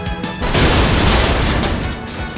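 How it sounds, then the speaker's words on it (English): A car blows up at a gas station in a PlayStation 3 game: a loud booming blast that bursts in after a short lead-in and rolls on as a sustained heavy rumble and crash, with no speech. "The explosion sent me up onto the freeway."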